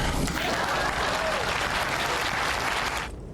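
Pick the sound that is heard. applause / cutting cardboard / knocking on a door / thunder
applause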